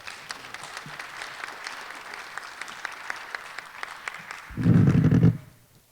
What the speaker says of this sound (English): Let's give him a hand